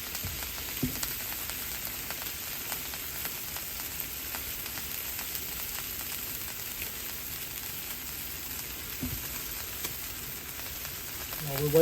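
Bacon sizzles on a Blackstone griddle, a steady crackling hiss with scattered pops running for several seconds, close and fairly quiet.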